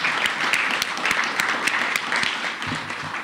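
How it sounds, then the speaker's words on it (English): Audience applause at a Poppy Festival press conference, a steady patter of many hands clapping at moderate volume with a few sharper individual claps. "So let's give them a big round of applause for all the hard work they do."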